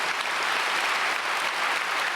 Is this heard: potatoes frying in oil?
no